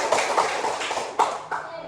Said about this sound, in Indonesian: Kita berikan tepuk tangan yang meriah untuk kelas 4